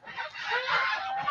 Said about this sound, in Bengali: এই যে কিছু হাইব্রিড প্রজাতির সোনালী মুরগি আছে আমাদের ফার্মে।